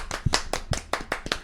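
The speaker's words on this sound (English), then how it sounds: "Let's give a round of applause for my father, Rob." Hands clapping for a returning guest on a podcast, about seven distinct sharp claps in a steady, fairly quick rhythm, close to the microphone and clear, as if from only one or two people.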